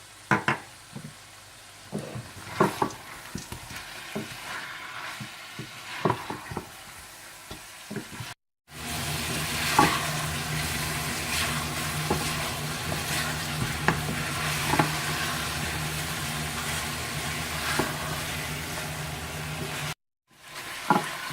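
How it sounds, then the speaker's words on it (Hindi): Whole spices such as cinnamon and black cardamom fry with turmeric and red chilli powder in a pan for Sindhi biryani, sizzling steadily and loudly with scraping stirs and a few clinks from the spoon. "और साथ ही आप इसमें हल्दी पाउडर, सुर्ख मिर्च पाउडर डाल दें और अच्छी तरह से भून लें।"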